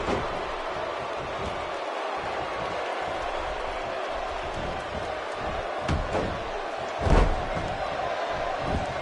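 A virtual arena crowd in the WWE 2K17 video game roars steadily throughout, a dense wash of cheering with a couple of louder swells near the end.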